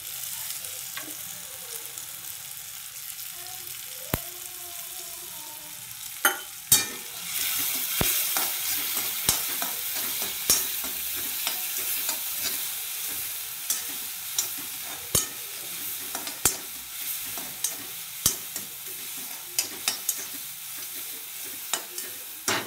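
Vegetables including bell pepper cooking in a pan with salt, a steady close sizzle running throughout, broken by sharp scrapes and taps of a stirring spoon at irregular intervals, with no voices.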